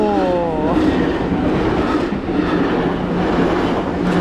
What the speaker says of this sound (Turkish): Tren geliyor şimdi.